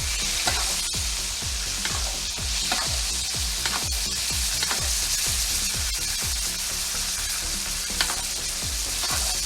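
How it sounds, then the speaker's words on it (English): A porterhouse steak sizzling loudly in a hot pan while being basted, steady frying hiss with a regular rhythm of spoon scrapes and spattering fat, close up and without talking. "We're going to tip it and baste."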